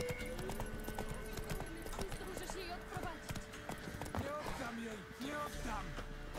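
Horse hooves clip-clop steadily on a road in The Witcher 3: Wild Hunt, a fast, continuous rhythm of close hoofbeats under a voice talking throughout, with game ambience behind.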